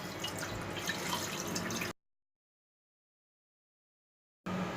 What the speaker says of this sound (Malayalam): നമുക്കത് കുക്കറിൽ ഒരു സ്റ്റാൻഡ് വെച്ച് കൊടുത്തിട്ട് കുറച്ച് വെള്ളം